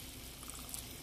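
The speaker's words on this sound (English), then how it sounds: "We are going to put in some oil in it." Cooking oil poured into a pot of boiling water for a sausage and rice dish makes a brief, soft trickle over the faint bubbling of the boil, with no talking.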